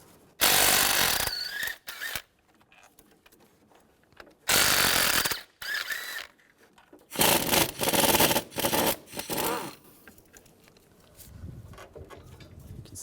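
Engine mount bolts on a 2005-2010 Chevrolet Cobalt being loosened with a 16mm socket during a clutch replacement: several loud, close bursts of power-tool whirring, separated by brief quiet gaps and light clatter.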